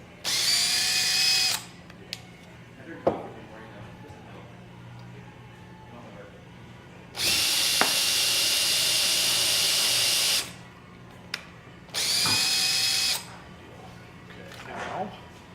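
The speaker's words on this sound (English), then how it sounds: "Now, use this drill." A power drill bores into wood at a makerspace in three separate bursts of steady high whine, each lasting a few seconds, with quieter pauses and faint background activity between them.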